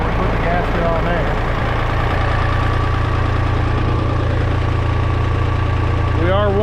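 A warmed-up David Brown e26 tractor engine runs at roughly 1300 RPM, a steady close chugging drone throughout with a faint rattle, and a brief rising whine near the end.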